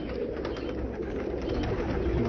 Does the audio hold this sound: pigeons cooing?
yes